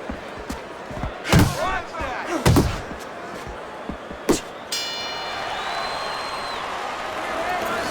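Boxing punches landing in a Fight Night Champion AI simulation bout, heard as several sharp thuds and slams amid crowd noise, under a commentator's voice.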